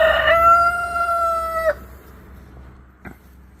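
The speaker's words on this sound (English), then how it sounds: "So yeah, that's just a couple of the birds." A rooster on a homestead crows once, loud and close, a long sustained cock-a-doodle-doo ending in a sharp break, followed by a brief faint cluck amid quiet farmyard background.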